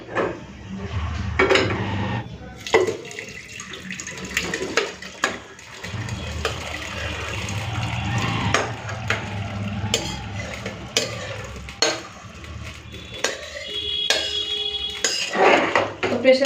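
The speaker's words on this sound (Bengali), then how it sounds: "নুন দিয়ে ভালো করে আমি মিশিয়ে নিলাম" Salt being stirred into food in a cooking pot: a spoon scrapes and clanks against the metal pot in irregular strokes, close and fairly loud, over a low sizzling background.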